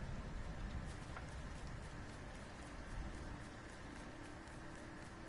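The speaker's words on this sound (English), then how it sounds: "Look at that, it's thunder and raining again," Rain falls as a soft, even patter in the video game Lego Fortnite during a thunderstorm, faint and steady throughout with no clear thunder peal.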